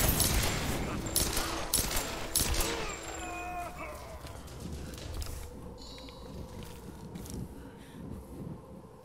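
Sustained rapid gunfire in the video game Tomb Raider, dense loud volleys for the first few seconds that fade into quieter scattered shots and ambient game noise, with a voice talking.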